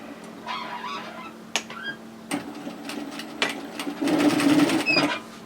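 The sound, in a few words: sewing machine sewing a skirt seam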